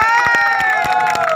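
Applause and cheering from a crowd at a ship crew's New Year party honoring the catering department: rapid bursts of clapping over a bright, sustained tonal backdrop, loud and close throughout.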